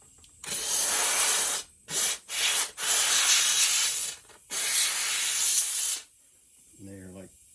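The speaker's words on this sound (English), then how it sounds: "I like to use a good steam cleaner" A steam cleaner blasts pinball stand-up targets in loud hissing bursts, five spurts of about one to one and a half seconds each with brief gaps between them, followed by a short voice at the end.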